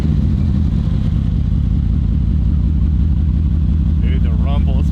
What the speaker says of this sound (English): the rumble, especially because there's no exhaust, it's just the downpipes.